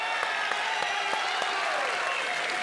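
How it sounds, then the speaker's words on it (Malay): Steady, dense applause from a sizeable audience at a Malaysian economic policy debate, with clapping continuing evenly throughout. "Apa kata kita berikan tepukan kepada kedua-dua YB yang hadir ini?"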